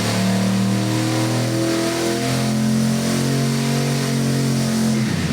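A turbocharged junkyard 5.3-liter LS V8 runs on a dyno, running rich with little timing, its deep, loud drone climbing steadily in pitch as it revs under load, with no pauses.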